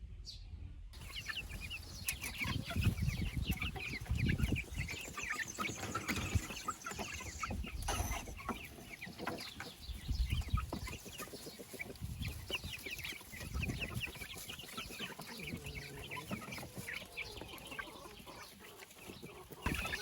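Young chickens on a farm cluck and cheep almost without pause for about twenty seconds, a busy flock heard close by and layered over a faint outdoor background, with no talking.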